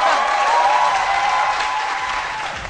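A studio audience on a midday comedy show applauds a young performer, loud, dense clapping with a faint crowd murmur and a sustained tone underneath, easing slightly toward the end.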